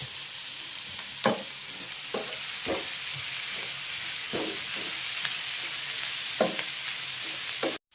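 Onion, carrot and tomato sauté in a pan for a Kerala beef puffs filling: a steady, close sizzle runs throughout, broken by a handful of sharp stirring scrapes at irregular intervals, with no voices.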